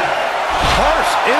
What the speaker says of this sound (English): Harsh impact.